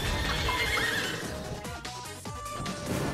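A horse in a video game lets out a loud, clear whinny that rises and then falls away in a couple of descending calls, with clip-clopping hooves around it.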